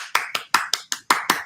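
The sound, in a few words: person clapping hands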